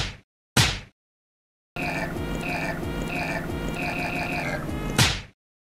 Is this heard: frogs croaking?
yes